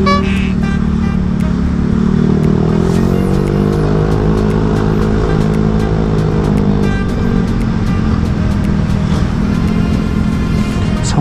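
A motorcycle on a night ride through Bali runs at full throttle, a loud, continuous engine drone with rising and falling revs, close to the microphone and without talk.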